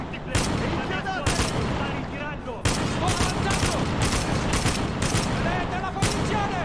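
Gunfire in the Spec Ops: The Line video game battle through Dubai: loud rapid bursts of automatic shots crack in repeated volleys, with game voices shouting beneath the dense firing.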